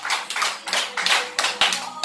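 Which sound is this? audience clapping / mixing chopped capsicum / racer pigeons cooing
audience clapping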